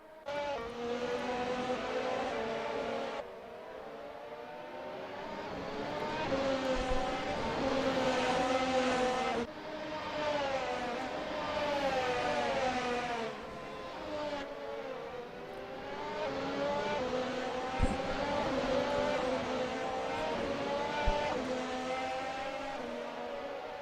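Race cars circling a Ricardo Tormo track in a sim racing league event, engines droning and revving in layered waves, shifting through gears as cars pass close by, steady and continuous throughout.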